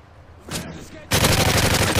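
AK rifle fire in the video game MW3: a brief softer burst, then a loud, close, continuous stream of rapid automatic shots filling the second half.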